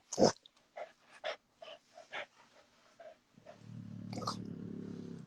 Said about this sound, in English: this little dog acting stupid right now